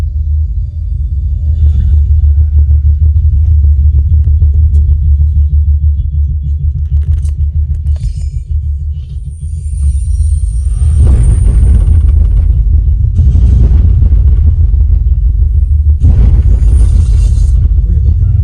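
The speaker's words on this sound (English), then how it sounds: "Movies have that really, really low bass that really kind of shakes your whole house" Deep movie bass from a DD Audio 500 E series subwoofer rumbles continuously at high level, a heavy low drone with surges and swells, with brighter noisy bursts layered in later.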